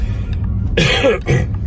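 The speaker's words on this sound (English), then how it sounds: "That's what my cough sounds like." A single harsh cough close to the listener, with a short second burst right after, loud against a quiet background.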